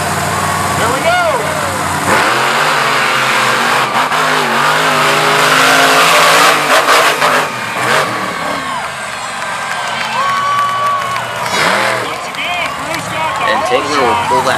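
Monster trucks, Grave Digger among them, racing at a Fishersville, Virginia event, engines revving and roaring loud over a cheering crowd, with an announcer talking over the noise.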